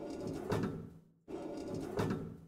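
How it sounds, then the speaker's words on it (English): A crow sings in the video game The Last Door in two separate cooing, note-like calls. Each call swells and then fades, and a short silence falls between them. The calls are fairly faint and there is no speech. "I mean, that's a crow singing, no? It's like notes."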